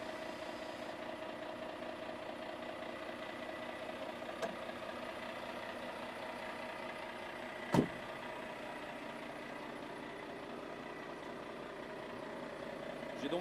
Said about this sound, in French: Je descends la suspension.